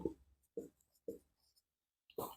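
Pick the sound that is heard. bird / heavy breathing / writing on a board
writing on a board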